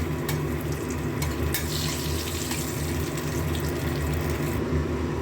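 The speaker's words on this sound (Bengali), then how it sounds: "পাশে একটা কড়াই দিয়ে তেল দিয়ে দিয়েছি। কড়াইয়ে একটু বড়া ভেজেছিলাম, সেই তেল ছিল। তার মধ্যে দিয়ে দেবো একটু হিং" Asafoetida dropped into hot oil in a kadai, oil reused from frying lentil fritters, gives a steady, close sizzling hiss that runs evenly throughout with no talking.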